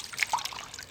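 Water trickles and dribbles as it is poured over leaves to soak them, outdoors beside a wood cooking fire; a short, fairly faint splashing pour with a few bright drips.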